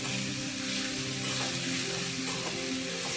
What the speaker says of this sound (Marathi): किसलेले गाजर टाकून घेऊया आणि आपल्याला पूर्ण मिक्स करून घ्यायचं आहे